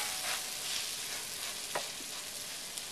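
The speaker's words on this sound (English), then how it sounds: "go ahead and saute the meat in the skillet" Meat coated in Parmesan and breadcrumbs sautés in clarified butter in a skillet, producing a soft, even sizzle with faint crackles and a couple of light utensil taps.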